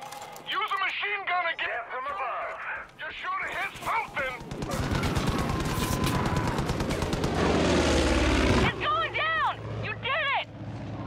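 Rifle gunfire in the Far Cry 5 video game, dense bursts of loud shots with a machine-gun-like clatter building over several seconds, mixed with game engine noise and someone talking over the action.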